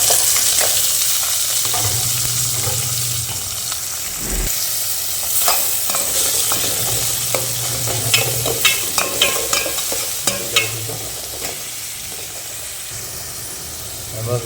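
Onions and garlic frying in a pan for potato masala, a steady close sizzle and hiss with repeated stirring scrapes and clinks of a spoon against the pan, with occasional speech.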